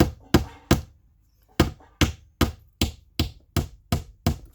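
Nails are hammered into tongue and groove wall boards: about ten sharp, loud, close blows, three quick strikes, a pause, then a steady series of evenly spaced hits, with no talking.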